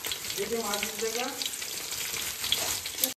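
Whole spices, chili and bay leaf crackle in hot oil in a pan with a continuous close sizzle, plus a few light clinks from stirring.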